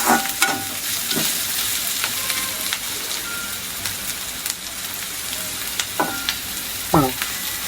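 Onions fry in a hot pan for goat blood fry, a loud continuous sizzle broken by repeated scraping and clanking strokes of a spoon stirring them.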